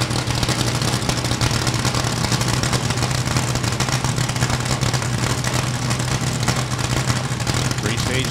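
Drag racing cars at a hot rod reunion drag strip, engines roaring loud and steady throughout, a dense continuous rumble with an announcer's voice talking over it.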